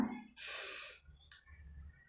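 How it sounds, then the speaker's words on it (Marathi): A single slow, deep breath during a guided chakra meditation, a soft airy rush heard close and quiet, followed by faint breathing and near-silence. "एक दीर्घ श्वास घ्या"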